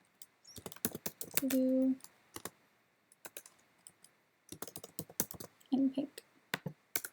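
Typing on a computer keyboard in quick bursts of close, crisp key clicks with pauses between them, while a person talks quietly over the typing.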